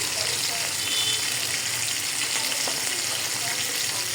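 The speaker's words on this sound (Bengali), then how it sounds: "এই মাছগুলো ভেজে নিচ্ছি লাল লাল করে" Fish frying in hot oil until reddish-brown, giving a steady, continuous sizzle with a faint watery hiss throughout, close and fairly even in level, with no talk over it.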